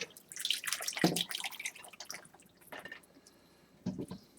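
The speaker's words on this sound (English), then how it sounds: "you pour your tomato sauce over the top of them" Tomato sauce is poured over meat-stuffed artichokes in a pan, giving soft, close liquid splashes and drips in uneven bursts, quiet, with no voices.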